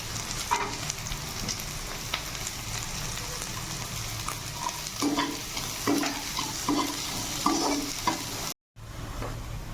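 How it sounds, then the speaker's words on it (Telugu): Green beans frying over high flame in a pan for egg fried rice, a steady loud sizzle with occasional stirring scrapes, close up and without talk. "దీన్ని మాత్రం కొంచెం హై ఫ్లేమ్లోనే వేయించుకోవాలన్నమాట"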